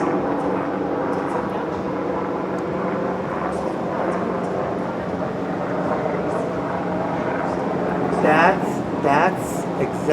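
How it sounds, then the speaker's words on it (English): A helicopter flies over Bal Harbour and Miami, Florida, at sunset, giving a steady droning rotor and engine hum at a distance, with a brief voice near the end. "This is like heaven sent when you have a helicopter like that."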